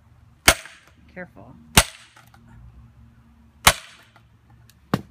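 A mallet hammers the back of an axe sitting on a sledge driven into a log being split outdoors, giving four sharp, loud, isolated metallic cracks spaced unevenly over a few seconds, with a brief spoken word between them.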